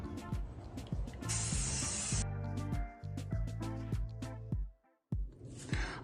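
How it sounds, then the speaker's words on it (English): Short bursts of aerosol spray hiss as an urn is coated with white primer, close and sharp, broken by pauses, over a background of music with no talking. "spray painted it white with the primer"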